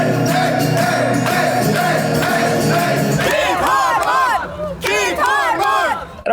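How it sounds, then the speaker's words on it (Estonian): A jubilant crowd celebrates in the streets of Budapest at night, a loud, close mass of voices roaring and chanting together, breaking into overlapping whoops and shouts toward the end. "Ungari pealinna Budapesti tänavad täitusid eile õhtul juba varakult juubeldava rahvamassiga."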